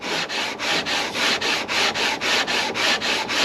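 Sanding the frets on a handmade parlor guitar, a firm back-and-forth rasping stroke repeated about a dozen times in an even rhythm, close and loud with no talking.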